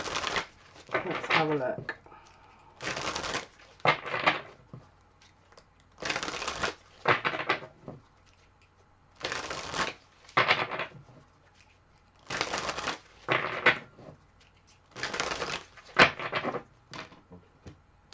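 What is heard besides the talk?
tarot cards being shuffled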